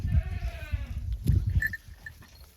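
A goat bleats near the start, a wavering cry over low rustling and shuffling, followed by quieter background sounds as it eats sorghum.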